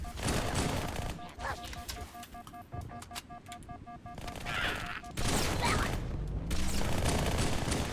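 Dual SMGs fire in Halo 2 gameplay, dense rattling bursts running nearly continuously across the clip alongside other game combat noise, loud and close, with a brief lull midway before the firing resumes.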